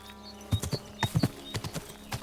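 Horse hooves clip-clop in the video game Kingdom Come Deliverance II, an uneven walking rhythm of hard knocking steps in close groups, near and clear over a faint background.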